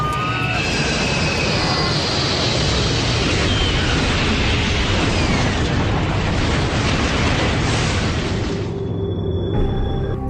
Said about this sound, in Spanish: Una gran explosión seguida por un enorme incendio envolvió al avión